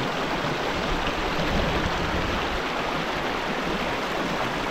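Rushing river water flows steadily and loudly near a stream crossing on a hike toward the Shnurok waterfall near Aderbievka, Gelendzhik, a continuous broadband wash with no talk.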